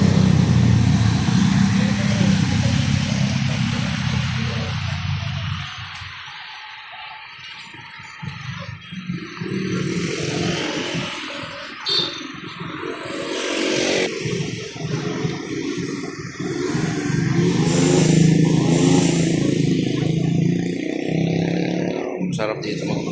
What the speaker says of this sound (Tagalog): Ito yung National Highway.